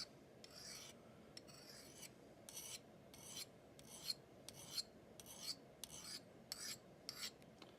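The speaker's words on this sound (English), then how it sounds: "the best time to sharpen this blade would be right now" A file rasps across the blade of a Felco pruner in a series of about a dozen steady, evenly spaced strokes, close and fairly quiet, with no speech.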